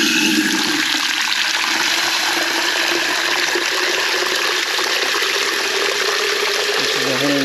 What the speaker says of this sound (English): add some water to my measuring cup here